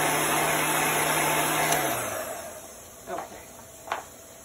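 A heat gun blows steadily over chalk paste, a close, even whooshing whir for about two seconds that then winds down, followed by a couple of light clicks.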